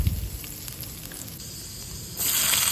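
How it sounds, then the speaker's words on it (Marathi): Cumin seeds and garlic hitting hot oil in a pan, a soft continuous sizzle that swells into a brighter, louder hiss near the end, close and with no voices. "मी एका पॅनमध्ये तेल घेतलेलं आहे, त्यात मी टाकले जिरं"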